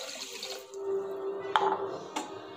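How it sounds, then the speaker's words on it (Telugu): Water poured onto rice in a pressure cooker: a soft, steady running trickle with a couple of small splashes and clinks, close by and fairly quiet. "ఒక కప్పు రైస్కి 3 కప్పులు వాటర్ పోసుకోవాలి."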